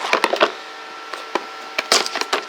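Cardboard packaging of a GoPro Hero 7 Silver camera box being torn and ripped open by hand, a series of sharp close tearing and crinkling bursts with brief pauses between.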